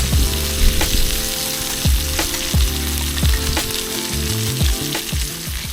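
Rib eye steak searing on a Blackstone griddle with beef tallow, a loud steady sizzle and crackle broken by repeated scraping and tapping of a spatula on the flat-top.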